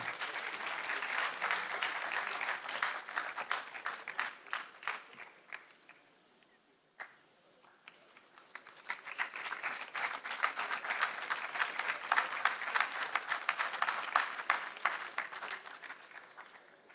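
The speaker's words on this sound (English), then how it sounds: "Can we give a huge round of applause for Advocate Kalpana Sanap Ma'am?" A symposium audience applauds Advocate Kalpana Sanap with many hands clapping. The applause dips into a brief lull midway, then swells back to a full, steady round before tapering off.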